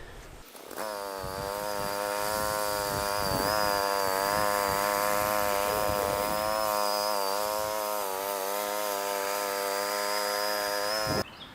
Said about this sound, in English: Now when I'm mowing the sidewalk strip, I just basically go up one side and down the other.